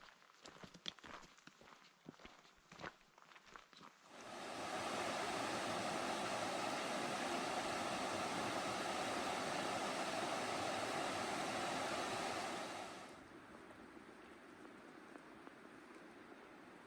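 Thunder Creek in the North Cascade Mountains rushes in a loud, steady broadband roar that swells in after a few footsteps on the trail, then drops back to a softer, distant wash.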